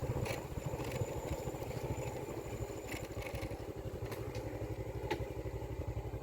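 A motorcycle idling while being parked outside an old mosque in a West Sumatran village, its engine putting out a steady low rapid chug throughout, with a few faint clicks and clatter on top.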